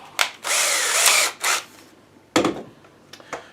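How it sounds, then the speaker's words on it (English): A power drill runs in loud bursts while boring a hole in a plastic jug: a short first whine, a long sustained run and a brief spurt, then a sharp clatter and a few lighter handling knocks. "and pre-drill before you use that big drill bit."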